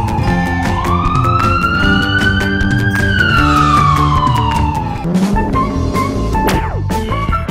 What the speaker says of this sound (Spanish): Enciende la sirena y listo.